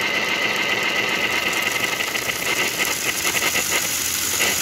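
A steam engine runs fast, giving a continuous, rapid mechanical chugging with a droning hum and a faint high whine, steady and fairly loud with no voices.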